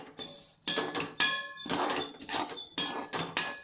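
Urad dal and chana dal dry roasting in a pan with no oil, stirred so metal scrapes and clinks against the pan in several sharp bursts between quieter rattling, close and loud, no talk.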